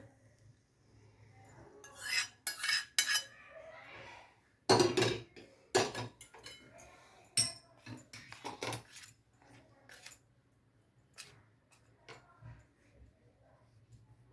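A spoon stirs hot oil into a sticky dates and sesame mixture in a bowl, giving irregular scraping and clinking knocks, some sharp and close, scattered over a quiet background.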